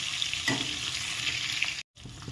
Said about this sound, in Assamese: এতিয়া মই ডিমকেইটা দুইটা চাইডে ৰঙচুৱা পৰিয়ালৈকে 2 মিনিট সময় ভালদৰে ভাজি ল'ম।